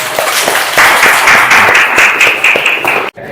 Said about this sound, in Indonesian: Tepuk tangan untuk Bobby.